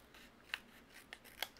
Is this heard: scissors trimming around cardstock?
yes